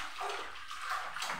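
Water splashing and swishing as leafy vegetables are washed for the third time in a kitchen, a continuous close, moderately loud sloshing with no talk.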